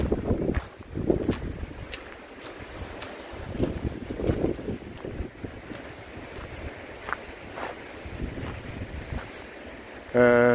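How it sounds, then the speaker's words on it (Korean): Strong wind buffets the microphone at the clifftop temple of Naksansa by the sea, a steady rushing roar with gusty swells and low rumbling throughout, ending in a brief tonal sound. "산사에 올라와 보니까 지금 바람이 아주 많이 불고 있습니다."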